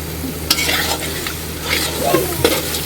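Spice paste made with chili powder fries in oil while being stirred. A steady, close crackling sizzle is punctuated by several sharp scrapes and knocks of the spoon against the pan, with no voices.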